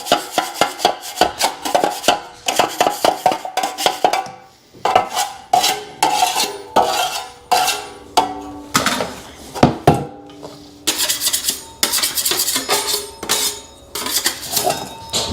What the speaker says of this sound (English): take two knives together and just work them off one another, and that'll knock any dry bits off of there